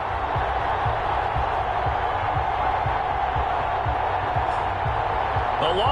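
A stadium crowd before an NFL game between the Carolina Panthers and the New Orleans Saints, a steady dense roar with repeated low thuds under it, a commentator speaking over the top.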